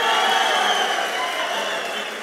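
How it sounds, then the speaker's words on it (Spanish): A crowd at a SENA session at Campus Party applauds and cheers, a continuous broadband roar of clapping and voices that stays fairly loud and slowly tapers off over a couple of seconds. "Aplauso por Mao"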